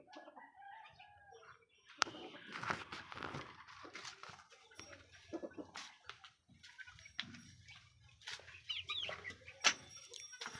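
Chickens cluck and squawk close by in a busy farmyard, with short bursts of calls, some rustling and scattered bird chirps throughout.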